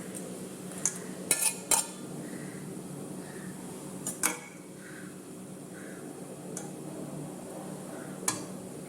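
A spoon clinks and scrapes against a pan while vegetable rice is stirred, sharp metallic taps scattered irregularly over a quiet background hiss, with soft rustling of the rice between strikes.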